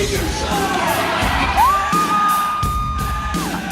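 Crowd cheering at a girls' sports game, a lively mix of shouts, whoops and yells rising in bursts over a busy background, with a whistle-like tone gliding through the middle.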